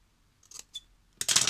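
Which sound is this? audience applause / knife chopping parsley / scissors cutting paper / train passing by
scissors cutting paper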